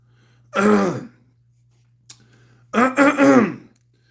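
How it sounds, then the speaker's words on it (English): Two bursts of harsh, voiced throat clearing close to the microphone, separated by a pause with a faint click, over a low steady hum. "If I'm clearing my throat a lot, I've been doing that since this morning."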